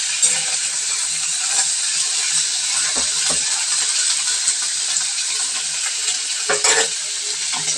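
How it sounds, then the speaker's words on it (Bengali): Green gobi frying on a high flame sizzles steadily in a pan, a bright continuous crackle broken by a few sharp utensil knocks and stirring clinks, with no one speaking. "এটা ভাজা হতে থাক,"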